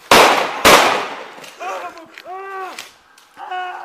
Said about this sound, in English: 44, we got shots fired.